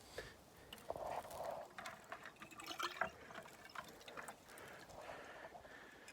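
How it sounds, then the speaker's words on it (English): Maple sap is collected to drink in the woods, with soft liquid trickling and filling sounds mixed with light mechanical clicks and handling noise, fairly faint and close. "So let's get some maple water to drink a little bit."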